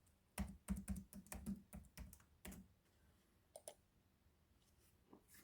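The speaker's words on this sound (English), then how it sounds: "If I can type right." Keyboard typing while logging in to a credit dispute site: quick bursts of close, crisp key clicks for about two seconds, then a pause and a few scattered single taps.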